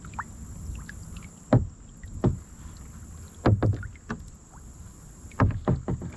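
A kayak paddled on water during a summer bass fishing outing in central Pennsylvania, several distinct splashing paddle strokes at irregular intervals, close, over a faint steady hum, with no talk.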